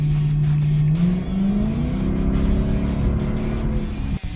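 A car's exhaust roars loudly and steadily after a remote-controlled cutout valve is opened, its deep engine note rising slightly in pitch partway through before a brief dip near the end.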